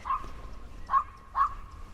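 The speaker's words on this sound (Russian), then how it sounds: "зато собака успела погавкать" A dog barks three times in a park beside a rose garden and small pond, the short yips spaced out over a low outdoor hum, moderately close and fairly loud.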